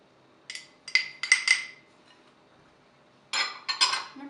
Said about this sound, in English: I'm going to give it a nice toss.